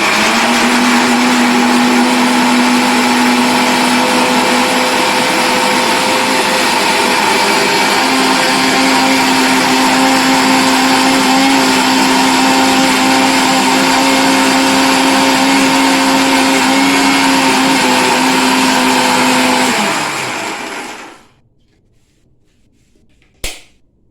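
An electric kitchen mixer grinds cashews and poppy seeds into a paste with a loud, steady whirring whine that runs for about twenty seconds. It then winds down and stops, and a small knock follows.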